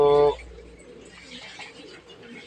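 A short burst of pigeon cooing at the very start, then soft, faint cooing and chirps over a quiet background at a pigeon farm.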